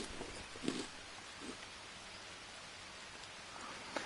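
Steady rainfall in the jungle survival game Green Hell, a soft continuous hiss with a few faint drop-like ticks scattered through it and no voices.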